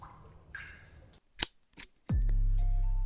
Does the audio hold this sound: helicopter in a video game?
no